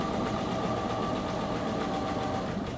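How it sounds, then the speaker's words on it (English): A sewing machine stitches a double row of bias tape trim onto a pocket, giving a steady close mechanical whir with rapid rhythmic needle pulses and no talking. "Just lay it gently down and keep sewing."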